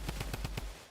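Rapid burst of about six gunshots in a video game, evenly spaced and punchy, fired quickly in under a second at moderate volume with no talk.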